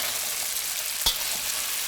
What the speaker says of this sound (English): Got a nice good sear on the meat.